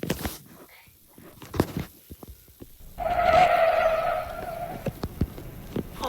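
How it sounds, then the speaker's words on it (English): In a railway video game, a vehicle sound effect plays a sustained tire-skid squeal for about a second midway, loud against quiet gameplay, with players talking intermittently around it. "I love how you can still hear it drifting even in the air."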